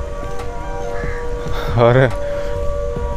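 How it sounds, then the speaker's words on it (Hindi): A short wavering industrial siren wail rises and falls briefly against a steady background hum near an industrial area with a power plant, with a voice speaking nearby. "सायरन बजता रहता है।"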